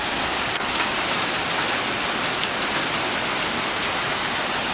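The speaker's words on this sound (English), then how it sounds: "raining pretty good" Steady, heavy rain from a Hurricane Irma feeder band pours down in a dense, even hiss outdoors, with no voices and no breaks.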